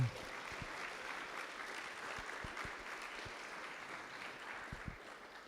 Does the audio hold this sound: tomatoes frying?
no